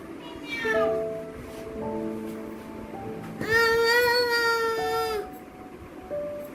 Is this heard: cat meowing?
yes